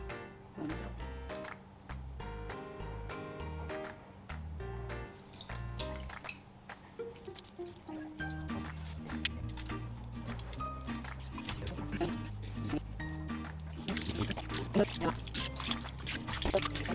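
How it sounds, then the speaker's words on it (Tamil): Cleaned prawns are rinsed with water, with dripping and pouring splashes running under steady background music, growing busier and louder near the end. "இப்போ நம்ம ப்ரான்ஸை நீட்டாக கழுவி எடுத்துட்டோம்"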